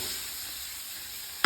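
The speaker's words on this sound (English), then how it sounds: "I'm just going to warm through those lardons with the Brussels sprouts and the onions" Lardons, Brussels sprouts and onions warm in a pan with duck fat, making a short, even, gentle sizzling hiss that ends with a sudden brief bump.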